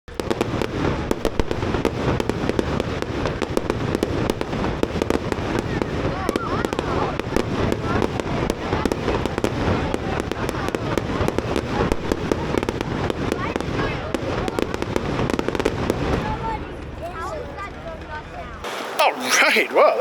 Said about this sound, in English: Fireworks show at the palace.